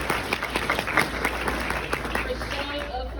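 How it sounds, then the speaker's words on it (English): Applause from a crowd at a mental health awareness conference in Southwest Florida, uneven clapping for about three seconds, with voices in the room mixed in. "Give yourselves a round of applause"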